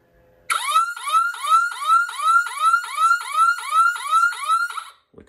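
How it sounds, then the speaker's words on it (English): An electronic home alarm siren starts abruptly, wailing in repeated rising sweeps about twice a second, loud and close, then cuts off. "turn siren on"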